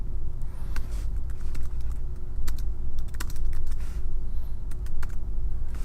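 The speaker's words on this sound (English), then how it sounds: "as you type in your question here" Keys clicking on a computer keyboard as a question is typed, a steady run of close, crisp keystrokes over a low background hum, with no talking.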